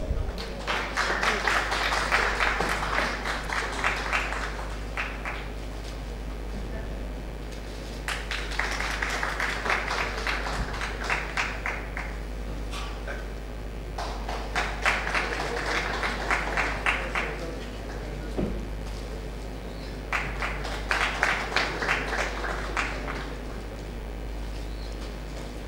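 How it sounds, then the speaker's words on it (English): Audience applause at a Smart City conference event in Bhopal, heard as four sustained bursts of clapping from a crowd indoors, moderately loud, with quieter stretches between them. "A huge round of applause."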